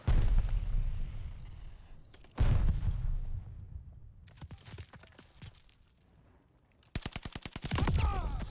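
Heavy gunfire from the video game Call of Duty: Vanguard arrives as booming shots with a rapid automatic burst near the end, loud and close with quieter lulls in between.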